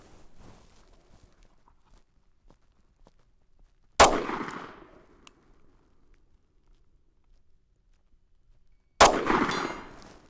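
Two sharp Walther PDP compact pistol shots ring out several seconds apart outdoors at a 100-yard range, each a loud crack followed by a brief decaying ring, with quiet gaps between.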